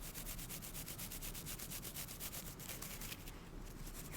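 Hands are scrubbed during a manicure, producing a steady, rhythmic close-up rubbing and brushing sound that continues throughout with no talk.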